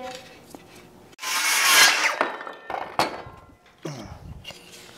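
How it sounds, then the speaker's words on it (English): Power planer trimming wood for a child's rocking chair, a close harsh whirring burst lasting about a second, followed by clatter and handling noises. "So I got one side trimmed down with the planer"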